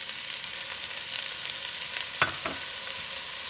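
Onions sauteing in olive oil for picadillo give a steady, even sizzle throughout, with a couple of brief stirring scrapes near the middle and no talk.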